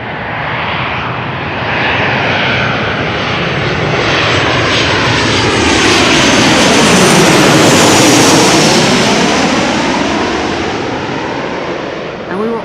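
An aircraft landing on runway 27 at Amsterdam Schiphol Airport roars overhead very loud and close, its engine noise swelling to a peak and then slowly fading as it passes.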